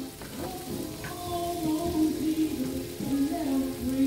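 Potatoes seasoned with black pepper stirred as they fry in a cast-iron pan. The sizzle is steady and close, with soft scraping movements through it.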